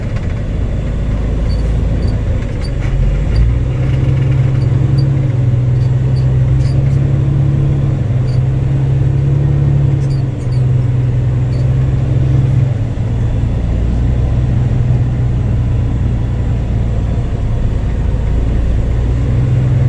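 A ten-speed truck rumbles along at low speed while turning around in a U-turn, a loud, steady engine drone heard from inside the cab with faint clicks and rattles.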